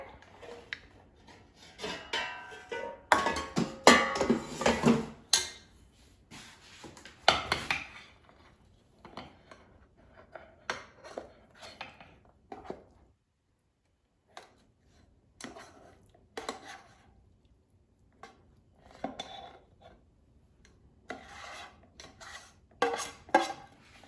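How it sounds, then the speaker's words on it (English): Cauliflower rice is taken out of an air fryer with scattered metallic clatter and scraping of basket and utensils, in bursts separated by quiet pauses, close by and with no speech. "Now let's take this out of the air fryer."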